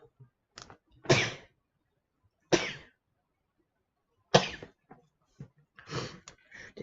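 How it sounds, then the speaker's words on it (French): A person sneezes, sharp explosive bursts separated by quiet pauses, close to the microphone, followed by softer breaths and small throat sounds. "Ah, je vais éternuer."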